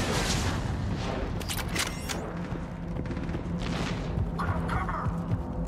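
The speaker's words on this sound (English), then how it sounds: "I hope it's the same gunshot noise" Rifle gunshots in Mass Effect 3, sharp bursts in a cluster near the middle and another toward the end over a steady game background rumble, with no talk.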